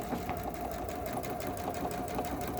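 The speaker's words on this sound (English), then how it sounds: "Now that we have it lined up, we can stitch on the diagonal." A sewing machine stitches quilt binding on the diagonal, a steady loud whirring hum with fast regular needle pulses running unbroken and close throughout.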